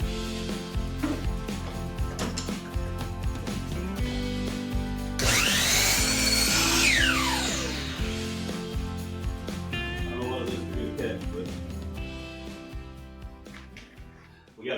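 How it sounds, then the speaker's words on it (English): A miter saw cuts wood for a planter box in one loud, rising whine lasting a couple of seconds midway, surrounded by quieter clattering and handling noise of the lumber. "Oh, this requires the miter saw."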